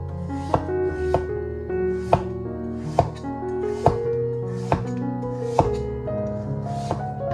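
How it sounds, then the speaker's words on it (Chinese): Knife slicing peeled pumpkin into thin slices on a board, eight evenly spaced crisp chops in a steady rhythm, close and clear over soft background music. "再切成薄片"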